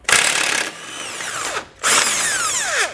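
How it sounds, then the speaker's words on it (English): Power-tool whirring as an 18mm socket removes the bumper beam nuts on a 2015 BMW X5, two loud sustained bursts with a short pause between, close by and without talk. "We'll now take an 18mm socket and remove all the nuts that hold on the bumper beam."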